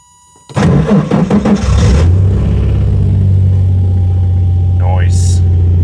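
A Nissan 200SX S12 cranks for about a second and a half with rapid chugging pulses, fires, and settles into a loud, steady idle close by. Near the end a brief voice is heard over the running engine.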